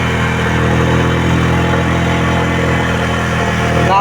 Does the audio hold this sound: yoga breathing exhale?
no